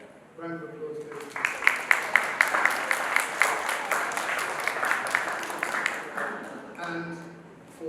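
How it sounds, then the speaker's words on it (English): A room of parents and pupils at a school prize day breaks into brisk, even applause that holds for several seconds, with a speaker's voice just before and after. "round of applause please."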